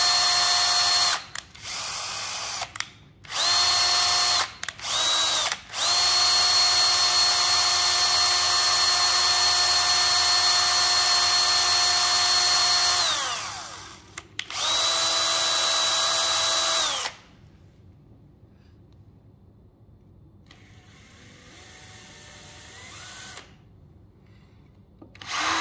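A power drill bores into a part for a 1.6 m Fi 186 Storch model aircraft. It sounds loud and close, starting with short stop-start bursts, then runs steadily for a long stretch before winding down to quiet room noise.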